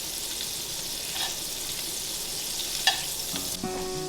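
Asparagus frying in a pan on the stove, a steady close sizzle throughout with a brief stir or clink near the end, no voices.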